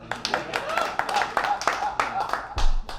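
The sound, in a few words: audience clapping at a comedy show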